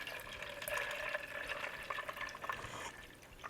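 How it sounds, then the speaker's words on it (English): Water poured into an Arcmira large plant-based milk maker, filling it to the max line: a steady splashing, gurgling stream with bright liquid tones, close and moderately quiet, with no voices. "So I'm going to put my water, I had to fill it up to the max line."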